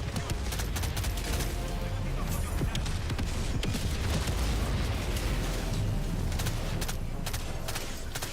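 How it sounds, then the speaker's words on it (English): Rapid bursts of automatic gunfire from a low-recoil, highly accurate weapon in a stealth commando mission video game, dense and loud throughout with continuous crackling shots and heavy low rumble. "A little bit of burst fire, like, it's very accurate."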